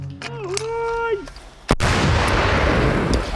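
A single sharp artillery blast, followed by a long, loud, rolling rumble. A short tonal call sounds just before it.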